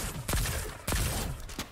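Three sharp gunshots from a video game fire at uneven intervals, each a loud, punchy crack over a steady background of game ambience.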